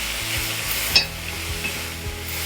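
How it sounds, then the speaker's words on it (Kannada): Fenugreek leaves being stirred in hot tempering oil in a pan, giving a steady close sizzle with a few sharp scrapes and clinks of the stirring spoon, and no voices. "ಈ ಒಗ್ಗರಣೆನಲ್ಲಿ ಒಂದು 2-3 ನಿಮಿಷ ನಾವು ಈ ರೀತಿ ಬಾಡಿಸ್ಕೊಳ್ಳೋದ್ರಿಂದ ಆ ಕಹಿ ಅಂಶನ ಕೂಡ ನಾವು ತೆಗಿಬೋದು"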